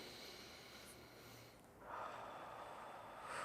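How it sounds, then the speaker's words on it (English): Soft nasal inhalations during a diaphragm breathing exercise, air drawn in through the nose. Faint, close breathy sniffs that swell twice toward the end, with no talk. "breathing into the nose, breathing through the diaphragm here"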